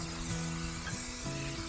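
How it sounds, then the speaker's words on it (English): Steady hiss of adhesive being sprayed onto the back of a Fibo wall panel pad, a continuous close spray with faint tonal hum underneath and no talking. "Spray it real good. Spray the back of the Fibo pad."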